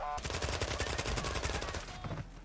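Automatic gunfire in Call of Duty Warzone: a rapid, evenly spaced burst of loud shots lasting about two seconds, then cutting off into quieter background noise.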